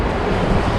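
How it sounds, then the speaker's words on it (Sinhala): A sudden gust of wind sweeps between tall buildings in Dubai, a steady broadband rush with low rumble and a distant traffic-like wash. It is loud and continuous, with no voices. "දැන් මේ වෙලාවේ මේ හිතපු නැති විදියට මේ එන හුලක් පාරක් එනවා."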